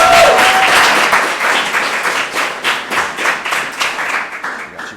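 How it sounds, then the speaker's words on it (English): An audience at a hackathon in Houston claps for the smoke detector team, a loud, dense burst of applause that starts strong and gradually thins toward the end, with no voices heard. "How about a round of applause?"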